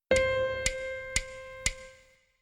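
A single piano note played as a whole note, held for about two seconds across four even beats and fading out alone.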